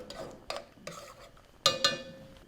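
A spoon stirs a teaspoon of turmeric and a quarter teaspoon of garlic into a pot of boiling water, giving several sharp metallic clinks against the pot at an uneven pace, close by, with no talking.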